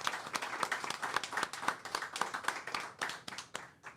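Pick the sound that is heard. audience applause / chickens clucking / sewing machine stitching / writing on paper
audience applause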